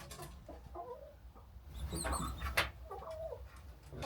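Mice inside the wall of a chicken coop make short high-pitched chirps and squeaks in scattered bursts, muffled and somewhat distant, over a low background rumble with no talking.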